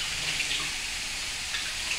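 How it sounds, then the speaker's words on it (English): Warm water runs from a tap to wet a paint roller, a steady hissing stream splashing continuously at close range with no voices. "Again, using warm water, I wet my roller."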